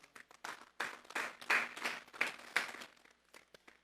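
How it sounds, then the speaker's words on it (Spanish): Church congregation applauding after a sermon: scattered, uneven bursts of hand clapping, fairly quiet and somewhat distant, swelling in the middle and thinning out at the end. "Vamos a hacer un fuerte aplauso pues al Señor."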